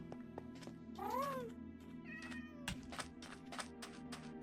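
A cat in the Minecraft video game gives two short, rising-and-falling meows, close and clear, over a low background hum with scattered sharp clicks and taps.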